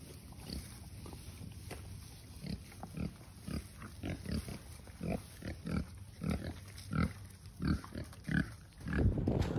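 Boars in a cold farm pen with hardened mud grunt in a steady series of short, low snorts close by, with wind noise behind them and no talking.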